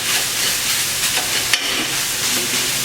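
Sausage for gravy cooks in a pan with a loud, steady sizzle while a utensil breaks it up, giving scraping and stirring noises and one sharp clack partway through.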